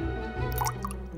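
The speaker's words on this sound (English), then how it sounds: "And to this we're gonna add 2 tablespoons of water." Two tablespoons of water are poured into Korean gochujang red pepper paste, a short close liquid trickle and wet squishy dripping sound, quiet and without talk.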